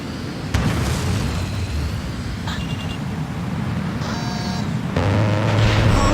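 Explosions erupt around an anti-air gun in the Ace Combat Assault Horizon video game, with several loud booms and bursts over a constant roaring engine drone and brief metallic tones.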